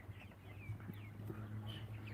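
Black Copper Maran hens, among other chickens, give faint, scattered clucks and soft chirpy calls over a low steady hum, with no voices.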